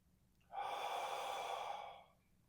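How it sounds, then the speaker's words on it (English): A person does a neck-and-shoulder release breathing exercise, letting out a long, audible, breathy exhale close to the ear that fades into quiet, with no words. "So audible exhale, soft inhale."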